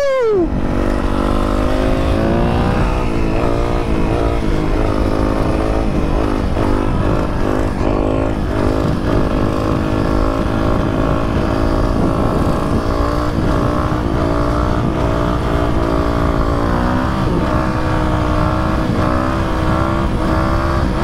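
A Yamaha YZF 250 four-stroke motorcycle revs and accelerates up close, its loud engine note rising and falling steadily throughout with no talk over it.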